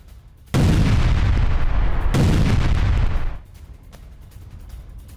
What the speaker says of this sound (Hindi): तो सुनिए आपने धमाके की आवाज